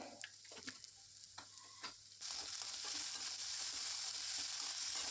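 Fenugreek leaves and potato sautéing in a pan for an aloo methi stir-fry: a few scraping stirs, then a steady, loud sizzle that fills the second half with no talk.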